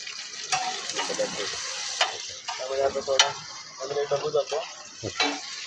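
Ginger garlic paste fries and is stirred in a pan at a pav bhaji street stall, a close sizzle broken by repeated scraping strokes of a spatula in an uneven rhythm.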